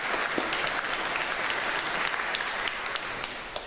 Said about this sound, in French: je vous demanderai c'est d'applaudir Ivan au piccolo,